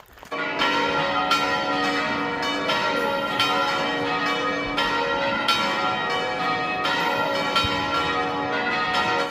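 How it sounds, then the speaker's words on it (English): Church bells ring loudly and continuously along the Camino de Santiago, overlapping resonant peals with repeated strikes and long ringing overtones, close and dominant with no voices. "the church bells are ringing, and they were pretty astounding how loud they were"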